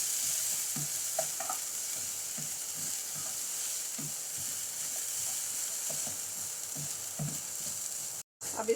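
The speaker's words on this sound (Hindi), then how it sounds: "शिमला मिर्च को हम 1 मिनट अच्छी तरह से भून लेंगे।" Finely chopped large bell pepper sautés in a pan with softened onions for a chicken spring roll filling, giving a close, steady sizzle broken by repeated spatula scrapes and taps, with a brief dropout near the end.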